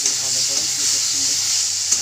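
Onion sizzles in hot oil with a paste of onion, tomato, green chilli, garlic and ginger for a fish curry, a steady close bright hiss with faint stirring underneath, continuous throughout.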